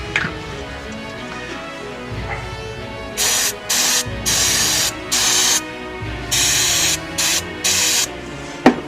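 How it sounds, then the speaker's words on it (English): An aerosol can of dielectric cleaner hisses onto a sailboat anchor in seven or eight short bursts of varying length, loud and close, after a moment of quiet handling. "we're going to spray this down with some dielectric cleaner"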